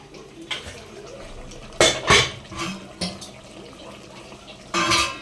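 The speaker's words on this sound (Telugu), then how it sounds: "ఇంకా నీళ్ళు అయితే వేసేసుకుంటాను మటన్ కదా ఉడకాల" Water goes into a pot of mutton curry amid sharp metal clanks of pot and utensils, a few distinct knocks and splashy bursts over a low kitchen background.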